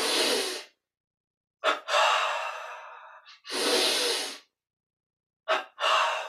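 Forceful double breaths from a Kriya Yoga exercise: paired quick inhales and long exhales come close and loud, separated by silent pauses, in a repeating rhythm.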